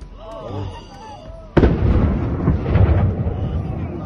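A sudden loud blast, apparently a drone strike, cuts through background chatter, followed by a rumbling, crackling tail that slowly fades.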